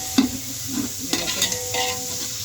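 Ginger and garlic fry in a pan before chicken goes into a biryani, a soft sizzle underneath with a few scraping stirs and light clinks of a utensil.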